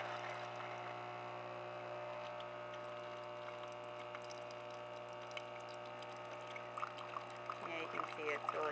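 A Tassimo T20 single-serve brewer hums steadily as its pump runs and liquid pours into a cup, a faint, continuous drone with light splashing near the end.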